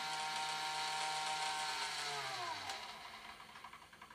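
A sail servo on a test rig whines steadily as it winds its cord drum out, then its pitch sweeps downward and it spins down into a softer pulsing rattle.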